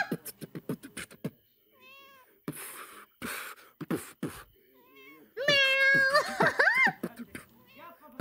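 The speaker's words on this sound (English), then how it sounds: "Meow! He's so cute." A cat meows several times: short mews at first, then a longer, drawn-out wail that rises and falls, close and fairly loud.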